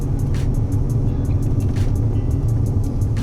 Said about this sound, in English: So this is third gear, about 30 miles an hour, little over 2000 RPM.